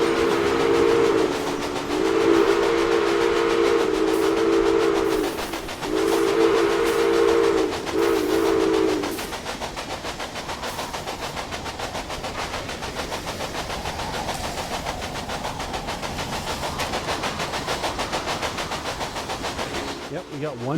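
A steam train whistle in Railway Empire sounds in several loud, sustained blasts over the first nine seconds, then gives way to a steady rumble of the train rolling out of town with no whistle.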